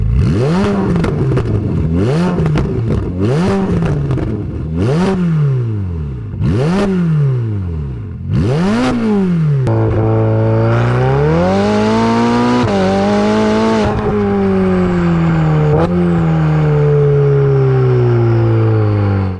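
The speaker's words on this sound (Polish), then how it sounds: "Posłuchajcie, jak pięknie brzmi ten układ wydechowy." A car fitted with an aftermarket exhaust system revs loudly and close by, several sharp throttle blips rising and falling in quick succession, then a longer sustained rev that climbs and holds before easing off.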